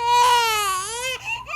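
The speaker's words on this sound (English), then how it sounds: "That was a baby crying," A recorded infant wails in one long, loud, rising-and-falling cry that breaks briefly near the end before a shorter sob, heard alone without talk.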